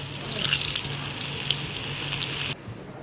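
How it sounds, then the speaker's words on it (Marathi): Small dahi vada lentil dumplings deep-frying in hot oil, a steady bright sizzle for about two and a half seconds that cuts off abruptly into quiet, no talking. "या पद्धतीनं छोटे छोटे छोटे सर्व वडे तळून घेत आहे."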